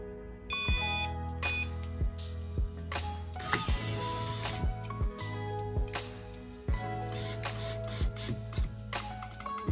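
A rear sun shade motor from a BMW E38 runs on bench test power, giving a faint steady electric whine and hum that shifts pitch a few times, with scattered small clicks and taps.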